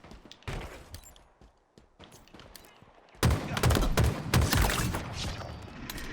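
Rapid bursts of gunfire in the shooter game Halo Infinite, starting with scattered shots and building after a few seconds into a loud, dense barrage of overlapping fire.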